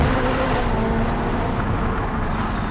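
Ferrari 488 Pista engine pulling hard under acceleration, a loud, dense, steady roar that stays close and continuous throughout with no talking.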